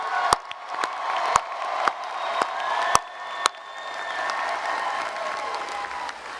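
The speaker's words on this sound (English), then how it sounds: "Another big round of applause." A university commencement crowd applauds graduates, with sharp, close claps over broad, distant clapping, and scattered whistles and cheers rising through the middle.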